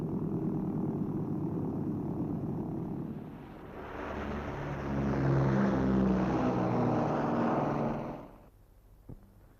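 A steady propeller drone swells louder as an aircraft passes close by, then cuts off abruptly, leaving near silence.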